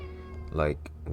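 A pet cat meows twice in quick succession, a close, clear, rising cry followed by a shorter one, heard over a low steady hum indoors.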